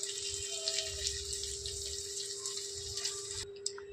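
Hot water is poured into a pot of khichuri made with equal parts Gobindobhog rice and mung dal, a soft steady pouring and trickling close by that stops abruptly near the end.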